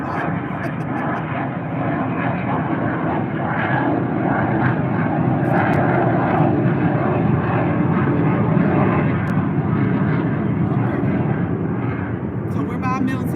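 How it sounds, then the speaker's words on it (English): Military jet aircraft from a nearby base roar overhead in a long, loud, steady rumble outdoors by a garden, with a person's voice faintly audible beneath. "Let's let the jets go by."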